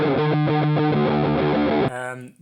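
Heavily distorted electric guitar chords through a Big Muff Nano fuzz pedal, thick and buzzing, strummed in a steady pattern before cutting off into a fading ring.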